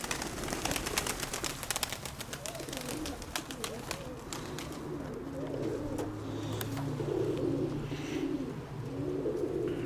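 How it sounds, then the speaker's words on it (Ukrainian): Pigeons coo in low, throaty repeated phrases close by, with wing flutters and rustling early on, over a steady outdoor background. "Тут гуляють голуби"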